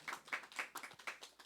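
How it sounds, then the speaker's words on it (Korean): A church congregation claps in a steady rhythmic beat, about seven claps in a second and a half, soft and somewhat distant. "하나님께 영광의 박수 올려드리겠습니다."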